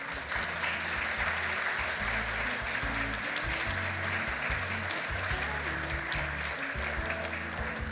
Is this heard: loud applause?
yes